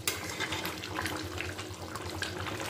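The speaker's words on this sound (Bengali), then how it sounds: "খোলা অবস্থায় একটুখানি ফুটিয়ে নিচ্ছি।" Jackfruit and prawn curry in Bengali style simmers uncovered in a pan, giving a steady close bubbling, watery hiss at low level throughout, with no voices.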